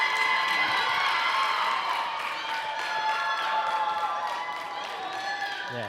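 A crowd at a women's championship football game cheers and applauds after a touchdown, a steady, dense roar with whoops that holds loud throughout and fades slightly at the end.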